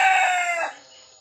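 A labuyo jungle fowl rooster gives the tail end of a crow, loud and close. The shrill call fades quickly after about half a second.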